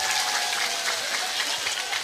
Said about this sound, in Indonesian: Tepuk tangan kagem Pak Camat.